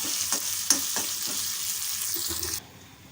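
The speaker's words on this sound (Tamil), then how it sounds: "எல்லாமே நல்லா தாளித்து ரெடியாகட்டும்" Ginger and spices tempering in hot oil in a pan, a steady crackling sizzle broken by several short pops and spatters, with the sizzle suddenly dropping away near the end.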